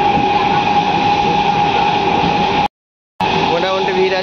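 Steady rumbling drone of a moving, moderately crowded train carriage, loud and close, with a brief dropout of silence partway through.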